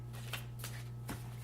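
Pokemon cards used as a tarot deck are shuffled by hand: a few soft, brief papery riffles spaced out over a low steady hum, faint and close.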